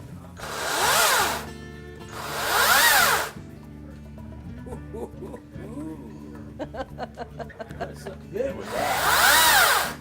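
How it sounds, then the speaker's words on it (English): An electric chainsaw from Ascension Equipment revs up in three bursts, with a quieter stretch of talking between the runs. "I figured I'd give him a few minutes with this cool chainsaw."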